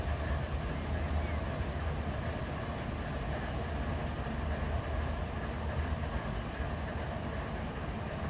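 A long freight train with mid-train DPU locomotives in the Run 8 simulator rumbles past steadily, a continuous low roar with a faint wheel rattle and no breaks, while a voice talks over it.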